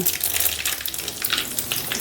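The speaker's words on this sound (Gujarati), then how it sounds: "રાઈ ચટકી ગઈ, હવે જીરું એ એક આખી ચમચી" Close, steady crackling and popping of mustard seeds in hot oil as cumin is added, with sharp little bursts over a continuous sizzle.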